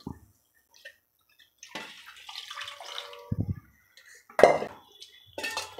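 Short splashes and bursts of water poured into a vessel for banana flower curry, separated by quiet gaps, with a clink of metal and some handling noise.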